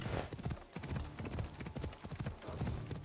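In Assassin's Creed Odyssey on PC, a horse gallops with steady rapid clip-clop hoofbeats, close and continuous, under a light game ambience with no talk.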